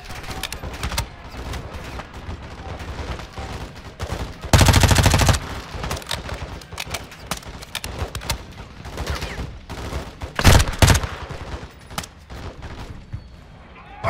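Rapid bursts of gunfire from shooters at a wall in Call of Duty: Modern Warfare 2, sustained chatter of rifle shots with two very loud close volleys standing out, scattered shots between them.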